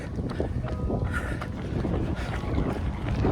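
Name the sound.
strong headwind while running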